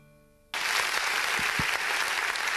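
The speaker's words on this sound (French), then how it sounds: "Applaudissez pour elle, s'il vous plaît" After a brief faint tone, audience applause at an evening event opening in Beauvais erupts abruptly and continues as a dense, even wash of clapping with a couple of sharper claps nearby.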